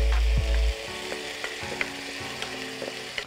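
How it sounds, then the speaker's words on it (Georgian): Celery stalks sizzle in a pan of butter and olive oil, a loud burst of frying at first settling into a steady crackle with small scraping and stirring clicks. "ვიგებ ცოტაოდენ კარაქს ისე. ცოტა ზეითუნის ზეთსაც ვამატებ."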